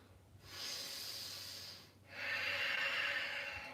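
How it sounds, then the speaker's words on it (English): Strong, forceful breathing held in a yoga warrior two pose: two long, hissing breaths drawn through the nose and mouth, close and clear, separated by a short pause. "A few breaths here, strong warrior breaths."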